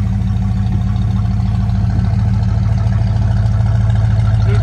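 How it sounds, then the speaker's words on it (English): A 1965 Mercury Comet Caliente convertible runs through its new dual exhaust, a loud, close, steady low rumble that holds evenly throughout. "New dual exhaust."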